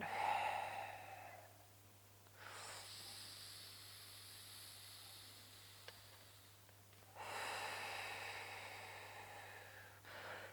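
Slow, deep breathing during a neck and shoulder stretch: a long airy inhale, a quiet pause, then a second long breath, soft and close with a faint steady hum underneath.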